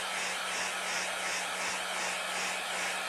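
A hair dryer drying fresh paint runs as a steady, even blowing whir with a faint pulsing, close and continuous with no talking.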